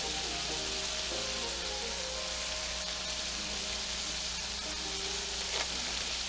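Shrimp rolls on brioche bread fry in a pan with a loud, continuous close sizzle and crackle that holds steady throughout, with no talking.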